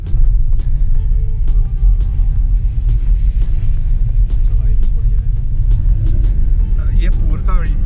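A car engine revs to 3000 rpm in first gear on a hill road near Ooty, a loud steady low rumble from inside the vehicle, with people talking over it.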